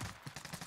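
Rapid automatic gunfire from a Stoner 63 in Call of Duty, a quick burst of about five evenly spaced shots, quiet and far off, lasting under a second.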